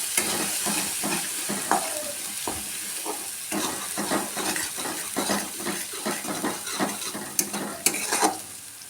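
Ground spice paste sizzles in hot oil in a pan, stirred steadily with a spoon. The frying hiss is close and fairly quiet, broken by repeated scraping stir strokes and a few louder clacks.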